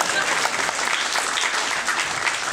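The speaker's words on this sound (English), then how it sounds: "Start fucking clapping." A comedy club audience claps for a comedian coming on stage, with dense, sustained applause filling the room throughout.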